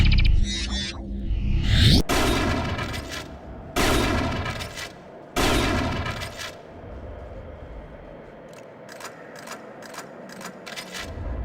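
A shotgun in a first-person shooter game fires three heavy, close blasts about every two seconds, each trailing into mechanical reload clicks. A quick series of small sharp clicks follows near the end.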